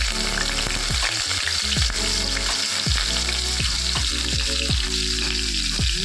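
Cumin seeds, asafoetida and chopped green chillies sizzle in hot oil for a Bengali cabbage and gram-flour dish, a steady loud crackle broken by repeated scraping stirs of a spoon against the pan.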